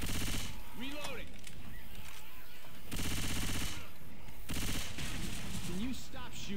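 Bursts of automatic gunfire in Left 4 Dead 2, loud repeated volleys arriving in several separated bursts, with a voice heard between them.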